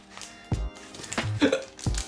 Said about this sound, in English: Hiccups. Let's hope those don't stay around.